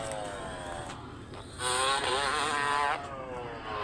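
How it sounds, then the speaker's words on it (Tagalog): A high-pitched engine whines in the distance, swelling into a sharp, revving roar for a second or so before easing back to a fainter drone. "Ang talim ng tunog ng makina eh."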